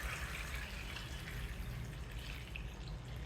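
Cooled boiled water pours steadily into an amla pickle mixture of fenugreek and turmeric, giving a soft, continuous watery rush close by with no talk over it.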